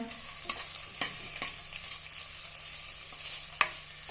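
Tomatoes sautéed in a pan with onion for a pressure-cooker pavta rice dish, making a soft continuous sizzle punctuated by several sharp spatula scrapes and taps, quiet and close.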